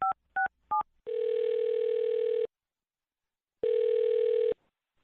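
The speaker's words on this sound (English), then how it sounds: "I'll dial this phone number right now and see if we can figure it out" Three quick DTMF keypad beeps are followed by two long ringback tones separated by a silent gap, all clean and close, as a telephone dials and rings a number.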